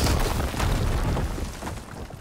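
A dense, rumbling explosion in Horizon Forbidden West roars across the whole moment, heavy low booms with crackling debris, loud and unbroken.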